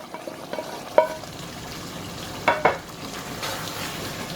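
Stir-fried vegetables are tipped into a simmering chicken paneer handi and mixed in, giving soft scraping and clinking spoon knocks over a low bubbling sizzle, with a few sharper taps.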